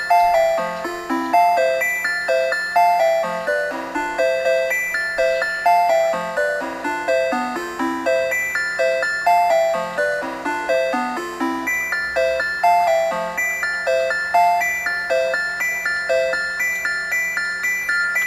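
Bright, bell-like synth tones from an analog sequencer step through a repeating pattern of high notes over a steady low drone, continuous and fairly loud with no voices.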